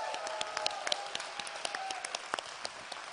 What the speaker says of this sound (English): Actually, all this applause should go to Siri